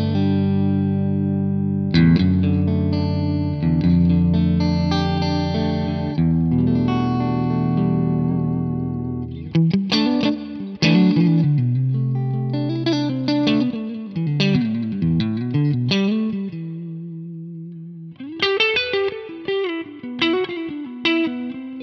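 Clean electric guitar through an amp, chords and single-note runs ringing out with a light reverb tail, played alone without voices.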